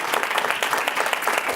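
Audience applause at a panel forum on women, criminal justice and health, a dense steady wash of many hands clapping filling the whole moment without a break.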